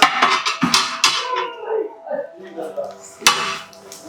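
A metal lid set onto a big pot of beef biryani in a busy cooking setting, with several sharp clanks and clinks of metal early on, then a few softer knocks and a final bright clatter, while a voice talks.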